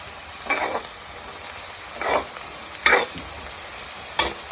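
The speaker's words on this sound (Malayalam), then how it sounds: "നമുക്ക് പച്ചമുളകും വെളുത്തുള്ളിയും ഇഞ്ചിയും കറിവേപ്പിലയും എല്ലാം എണ്ണയിലേക്ക് ഇട്ട് നന്നായിട്ട് വഴറ്റി കൊടുക്കാം" Green chilies, garlic, ginger and curry leaves sautéing in oil over a medium flame for Kerala-style beef pickle: a faint continuous sizzle with four distinct stirring scrapes spaced about a second apart, no voices.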